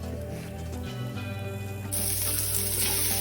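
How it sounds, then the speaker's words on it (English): Beef pieces browning in hot oil in a stew pot give a steady, loud sizzle that swells sharply partway through as more meat hits the pan, with no voices. "I just love the sound of sizzling meat."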